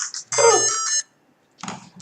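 A phone ringtone plays a bright, tonal electronic ring for under a second, goes silent, then starts again, close and fairly loud, during a programming session.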